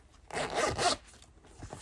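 Zipper on a small yellow flower-patterned zip bag sized for socks, pulled in two quick strokes at close range, loud and alone with no talk.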